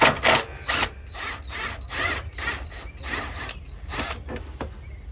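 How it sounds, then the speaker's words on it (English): A ratchet works loose a 10mm bolt during bumper and headlight removal on a 7th-generation Toyota Celica with the 2ZZ-GE engine: a quick series of about eight short, even clicking bursts, fairly quiet and close. "We'll remove this 10mm bolt here."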